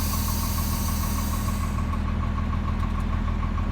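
A 2013 Kenworth T370 wrecker's 350 hp Paccar PX9 diesel idles steadily up close, a continuous low rumble with a fine rhythmic knock and no talking.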